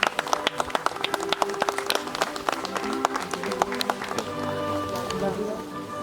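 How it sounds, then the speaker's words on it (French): Wedding guests clap for the newlyweds, sharp individual claps scattered across the room under music and background chatter, thinning out toward the end. "Applaudissons les mariés quand même,"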